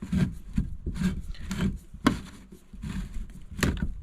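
Rhythmic metallic rasping and scraping in short repeated strokes, like a hand can opener cutting around the lid of a can of cream corn, close by with no voices.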